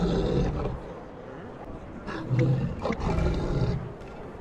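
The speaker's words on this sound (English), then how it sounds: "So maybe you enjoy listening to the little roar of this lion." A lion's roar from the Grand Lion Griffon mount in a video game: several deep, rumbling roars in close succession, loud and close with no speech.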